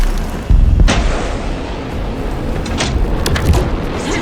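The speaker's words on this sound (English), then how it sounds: "Anderson, pin him down with gunfire for me to get the light on him" Loud booming gunfire in Alan Wake 2 bursts out after a brief pause, followed by a rumbling, crackling barrage of shots and impacts, dense and close.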